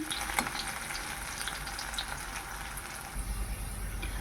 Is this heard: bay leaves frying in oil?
yes